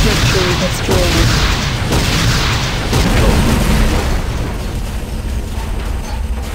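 Base structure exploding in the video game Command & Conquer: Renegade, a loud, rumbling blast with ongoing booms and battle noise for several seconds under an announcer voice.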